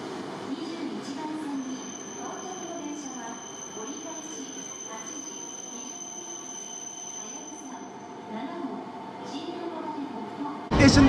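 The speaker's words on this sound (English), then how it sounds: "Isn't this one of the most stunning trains you've ever seen?" A Shinkansen bullet train hums steadily with a sustained high whine, and a voice talks intermittently over it before a sharp loud burst at the end.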